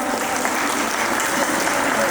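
An audience at a school annual day breaks into brisk, even clapping, a short dense burst of applause from many hands in a hall.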